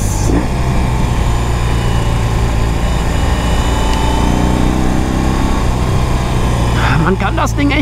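A BMW R18 big boxer motorcycle engine runs warm, a loud, steady deep rumble with a high rasp riding over it, held at constant revs throughout.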